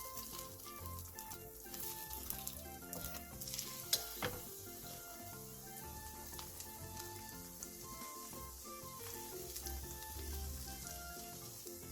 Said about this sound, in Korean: 애호박에 부침가루, 계란물 순서로 묻힌 뒤 팬에 올려주세요.